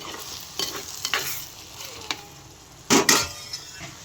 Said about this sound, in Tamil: ஒரு நிமிஷம் ஆயிடுச்சு அடுத்து நல்லா ஒரு கிளறு கிளறி விடுவோம்